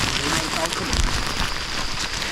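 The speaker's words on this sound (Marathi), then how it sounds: "पाऊस आहे बघा, रिमझिम रिमझिम" Light drizzling rain pattering steadily on surfaces outdoors in a wet Konkan monsoon setting, a broad continuous hiss of drops throughout.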